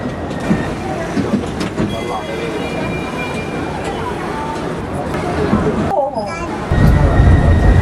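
A tram in Shanghai rumbles and rattles along, with a loud mechanical drone, a brief screech, and a heavier rumble near the end.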